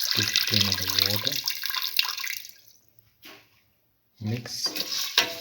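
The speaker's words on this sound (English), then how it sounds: "Now pour in 2 spoons of water." Two spoons of water are poured into a pan of mung bean mixture with a short splashing rush, alongside a clink of cookware and some talking before and after.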